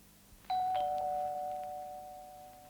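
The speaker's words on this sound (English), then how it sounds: "Ding dong, ding dong." A doorbell rings once in a room, a clear two-tone chime that starts sharply and then slowly fades, heard alone with no talking.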